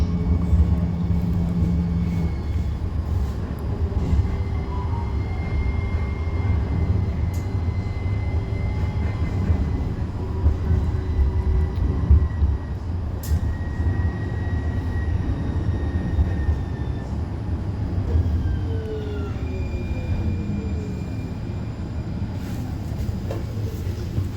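A Portland, Oregon light rail train rumbles along at a steady pace, with low continuous rolling noise, faint squeals and a few clanks over its long run.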